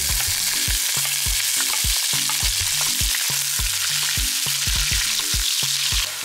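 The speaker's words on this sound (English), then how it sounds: "After the oil is heated, I'm going to add 2 sliced onions." Two sliced onions fry in heated oil in a pan, a loud, steady sizzle with repeated clanks and scrapes as they are stirred, no voices.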